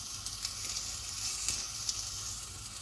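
Onions fry with carrots, garlic and butter in a pot on the stove, giving a steady low sizzle with small occasional pops and no talking.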